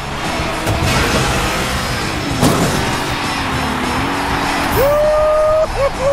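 Race car engine revving and speeding around London's Buckingham Sprint track in the Cars 3: Driven to Win video game, a steady loud motor drone with a rising whine near the end over game music.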